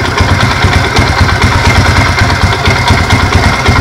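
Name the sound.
70cc motorcycle engine idling slowly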